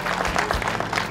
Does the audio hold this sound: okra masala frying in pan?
no